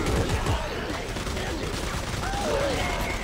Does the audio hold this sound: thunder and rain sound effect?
no